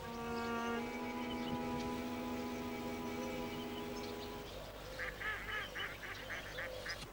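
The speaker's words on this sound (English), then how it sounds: "Why don't you feed the ducks?" Ducks at a pond let out a quick run of nasal quacks near the end, following a long sustained tone, moderately close and fairly quiet with no speech.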